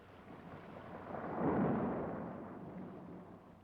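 Low, faint rolling thunder from a passing storm swells to a peak and slowly fades back into a quiet rumble, distant and alone with no voices.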